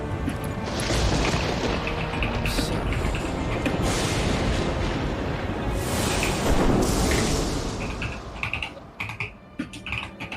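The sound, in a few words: flashbang explosion in the video game Sekiro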